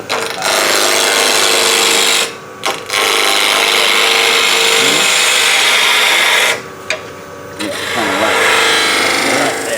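A wood lathe spins up to about 1,500 RPM and runs as a loud, continuous whir and hum with a tool cutting the wood, briefly dropping out twice before settling back into its steady drone.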